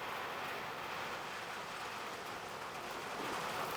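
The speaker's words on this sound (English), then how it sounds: "that rain now coming down" Steady rain falls outside a garage, a dense, even hiss with no distinct drops, moderately loud and continuous with no talking over it.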